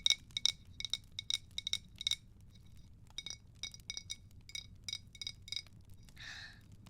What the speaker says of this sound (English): Do you like the sound that it makes? It's a glass jar.